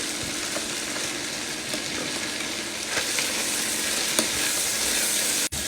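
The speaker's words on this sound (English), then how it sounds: "I absolutely just kept mixing the vegetables around for 4 to 5 minutes or so." Diced vegetables with celery sauté in butter in a pot, a continuous sizzle with scraping and clacking as they are stirred around, fairly close and steady throughout, with no talk.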